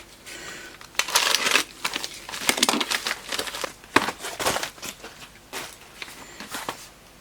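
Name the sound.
cutting open hard plastic packaging with a knife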